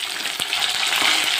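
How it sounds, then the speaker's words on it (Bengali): Fish fries in hot oil in a pan with a loud, steady sizzle, broken by a few soft stirring knocks, with no voices. "মাছটা ভাজা হতে থাক"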